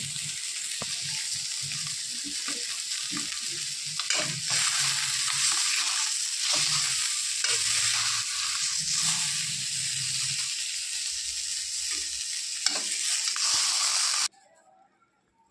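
Pieces of pona carp fry in hot oil in a pan, giving a loud, continuous close sizzle with occasional crackles and stirring, then cutting off abruptly into near silence at the end.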